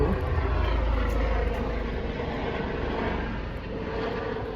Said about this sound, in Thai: เครื่องบิน บ๊ายบาย